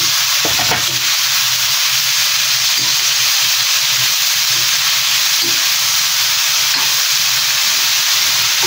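Bitter gourd (ampalaya) fries in oil for adobo, giving a loud, steady sizzle and hiss that runs without a break, with a few faint clicks of stirring.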